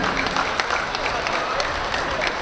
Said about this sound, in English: So let's give Mr. Antonio Tiu a big round of applause for his sacrifice and dedication.